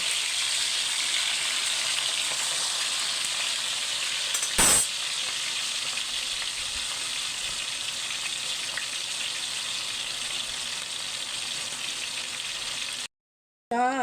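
Boneless milkfish (bangus) frying in a pan, a steady loud sizzle and crackle of hot oil that runs unbroken for many seconds, with one sharp knock partway through before it cuts off near the end.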